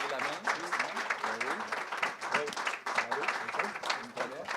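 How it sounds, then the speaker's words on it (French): Audience applause fills the end of a televised pre-election debate on independence, a dense, steady wash of clapping that runs throughout while voices talk over it. "Le public en délire peut maintenant applaudir."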